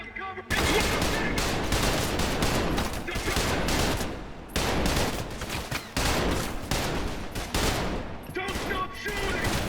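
Sustained heavy gunfire from a firefight in the shooter game Trepang2, loud and nearly continuous with brief gaps, dense bursts of automatic fire layered over occasional shouted voices.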